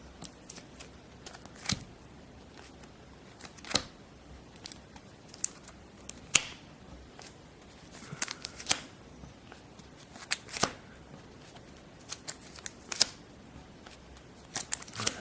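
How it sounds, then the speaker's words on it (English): Playing cards for the Sentinels of the Multiverse board game are shuffled and handled up close, giving quiet, irregular crisp snaps and riffles in scattered bursts over a near-silent background. "Shuffle the other revealed cards back into that villain's deck."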